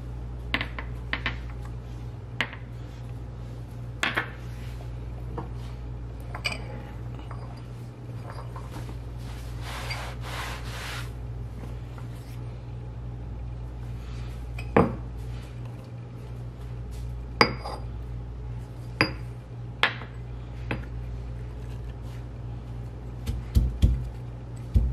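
Ginger and garlic pounded together into a paste, giving sparse, sharp knocks every second or two over a steady low kitchen hum.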